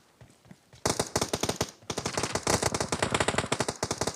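Rapid automatic AK rifle fire in an online shooter game, a short burst followed by long, dense rattling volleys, loud and close, with no talking.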